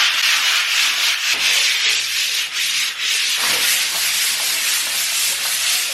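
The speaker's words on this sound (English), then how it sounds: "Okay, so we're going to have the light sand first." Hand sanding of a plaster wall using 100 grit sandpaper wrapped around a wooden block, a steady, close, loud rasping scrape that runs continuously with only brief dips in rhythm.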